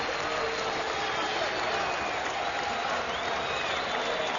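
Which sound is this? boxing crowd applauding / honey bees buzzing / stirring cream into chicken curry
boxing crowd applauding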